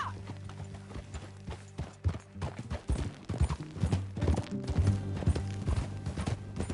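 Horse hooves clip-clopping in Red Dead Redemption 2, a steady galloping rhythm of close, distinct hoof strikes over a low continuous tone, with an occasional whinny and no talk.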